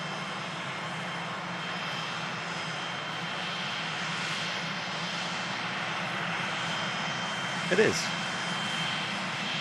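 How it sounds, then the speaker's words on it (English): An Austrian airliner passes during plane spotting, its engines a steady broad roar that swells slightly toward the end, with a brief voice near the end. "Austrian designated aircraft."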